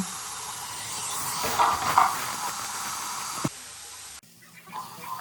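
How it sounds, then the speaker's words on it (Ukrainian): A steady broadband sizzle of bell peppers frying in a pan, swelling briefly louder, then cutting to quieter, softer sizzling toward the end. "додаємо перець і теж прожарюємо його до м'якого стану"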